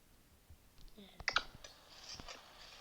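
Clicking while playing the horror game Ice Scream 4, a faint cluster of quick sharp clicks near the middle, with a few scattered taps around it over quiet background.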